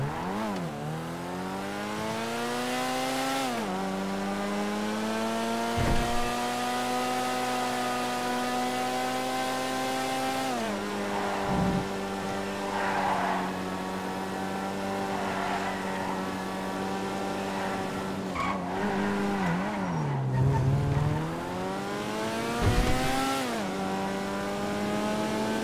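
Steady engine drone of an ugly two-door car on a video game test drive, with harmonic revs rising and falling through several gear shifts, loud and continuous without speech.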